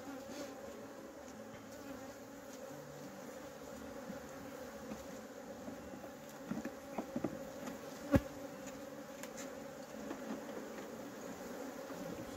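Honeybees drone in a steady, continuous hum from an open horizontal lying hive, with a few soft knocks and clicks near the middle and one sharp tap toward the end, no voices.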